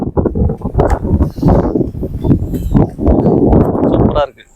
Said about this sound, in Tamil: செம்ம காற்றடிக்குது.